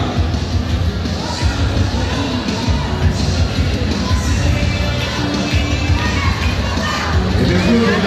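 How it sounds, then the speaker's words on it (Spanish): At a Morena political rally in Tamaulipas, a large crowd roars steadily, with cheering, shouts and children's voices blending into a dense, continuous din. "que se escuche el aplauso, que se escuche la alegría"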